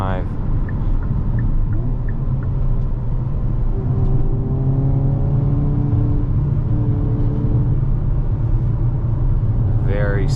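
A 2023 Hyundai Kona N in N mode accelerating up a highway on-ramp, steady engine drone and rising whine with road rumble throughout, heard from inside the cabin with someone speaking over it.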